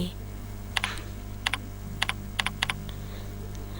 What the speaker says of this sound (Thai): จากนั้นลงมือพิมพ์เป็นภาษาไทย